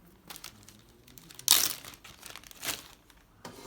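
A plastic bag crinkles as hydroponic cannabis seeds are placed in it and sealed, a soft crackling rustle with two sharper crinkles, close and fairly quiet.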